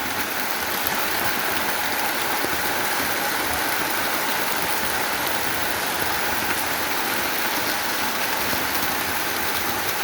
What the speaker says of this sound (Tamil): பாருங்க மழை பாருங்க எப்படி பெய்து கொண்டிருக்கு